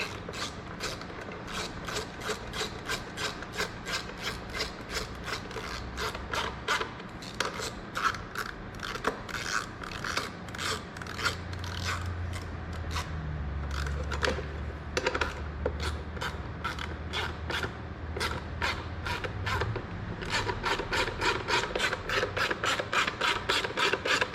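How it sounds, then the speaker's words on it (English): A 10 millimeter socket on a ratchet tightens the intake bolts on a Yamaha YFZ450 airbox, giving long runs of rapid, steady ratcheting clicks close up, with brief pauses between bursts and no talking. "I'll get a 10 millimeter socket and tighten these down."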